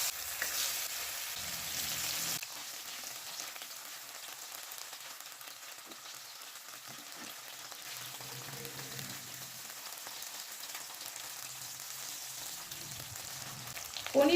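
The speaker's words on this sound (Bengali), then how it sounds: "পনিরটা আমি 1 থেকে 2 মিনিট হালকা লাল করে ভেজে নেব" Cubes of paneer fry in hot oil in a pan over medium-high flame, a continuous soft sizzle and crackle lasting throughout, with occasional stirring scrapes, close and fairly quiet.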